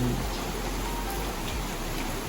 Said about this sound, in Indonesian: Ini hujan masuk, air hujan masuk